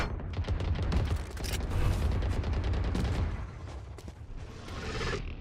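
Rapid gunfire in a shooter video game, dense overlapping bursts of shots and mechanical clatter running almost continuously, loud and close, with brief lulls.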